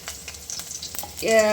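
Crushed garlic fries in hot oil in an Indian kitchen while it is being prepared for a spicy horsegram chutney. There are light scraping and stirring taps, then a brief tonal squeal near the end.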